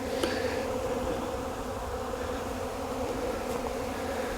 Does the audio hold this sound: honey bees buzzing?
yes